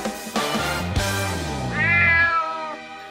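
Domestic cat gives a long, drawn-out meow close to the microphone, rising into a higher, wavering wail near the end.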